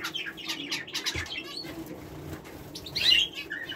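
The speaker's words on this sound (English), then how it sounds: "our bird just went crazy there with the 2 green finches" Two greenfinches in a cage flutter their wings and chirp, with bursts of flapping and a few bright close tweets, the loudest flurry coming near the end.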